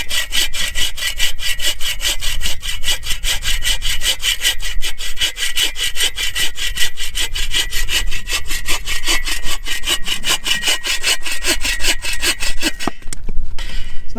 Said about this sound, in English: Not bad for hand sawing.